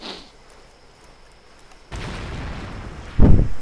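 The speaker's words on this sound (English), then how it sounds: "It doesn't take much to explode one of these either." Explosion of a vehicle in the video game Far Cry 2 map editor, with a quiet lull, then a rising roar and a loud, deep boom near the end.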